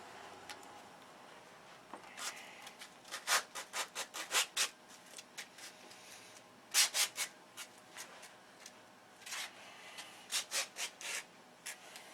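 Sandpaper worked by hand over a shoestring aircraft cowl, quiet rhythmic rasping strokes in short bursts of several rubs each, separated by brief pauses, close and alone.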